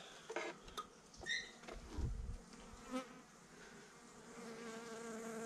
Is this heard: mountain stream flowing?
no